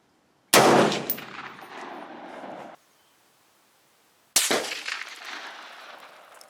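Two loud rifle shots from a National Match M1A fired with iron sights at a target range, each a sharp crack followed by a rolling outdoor echo that decays over about two seconds, separated by a short silence.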